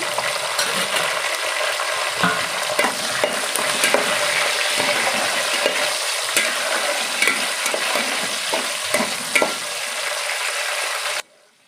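Green chillies, curry leaves and tomato fry in hot oil for a fish curry, a steady dense sizzle with stirring scrapes throughout, stopping abruptly at the end.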